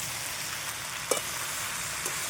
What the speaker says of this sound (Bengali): এঁচুর আর আলুটা সিদ্ধ করাটা কষিয়ে নেবো খুব ভালোভাবে